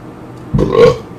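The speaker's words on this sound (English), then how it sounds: "Yeah, again a burp." A single loud, close burp rising briefly out of quiet background noise, lasting under a second.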